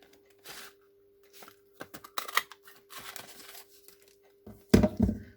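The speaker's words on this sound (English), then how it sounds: "You get your paper and cut out a circle." Paper being cut into a circle with scissors for a craft envelope, a series of short crisp snips and crinkles in irregular bursts, near and fairly quiet, with a faint steady hum beneath.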